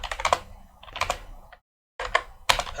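Keys on a computer keyboard clatter in quick, close clusters of typing, separated by short pauses and one silent gap, with no talking.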